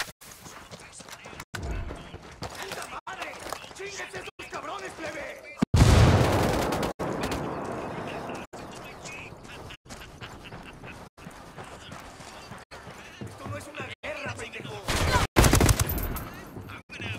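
Video game gunfire in Ghost Recon: Wildlands: sharp shots crack at irregular intervals over a busy background of in-game ambience, with a heavier burst around the middle and another near the end.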